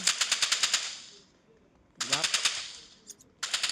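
Automatic weapon fire in the Roblox Rivals shooter game: two rapid bursts of evenly spaced shots, loud and close, separated by a short lull with a brief voice.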